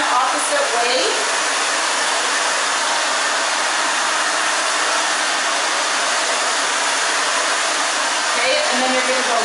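A hair dryer blows continuously and loudly while drying a teen's freshly cut asymmetrical bob, its steady rushing roar filling the whole stretch with only slight shifts as it moves.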